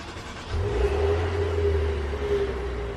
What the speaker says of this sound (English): You're gonna hear a Maserati in about a second.